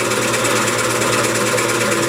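A wood lathe spins a mahogany candy dish blank mounted on a screw chuck with a live center at the tailstock. It gives a steady, loud, continuous whirring drone with a faint rough scraping texture as the blank is trued up.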